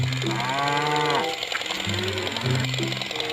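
A cow lets out several deep, drawn-out moos one after another, loud and close, with the low bellows sliding in pitch and no talk over them.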